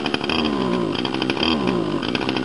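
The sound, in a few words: engine being revved while warming up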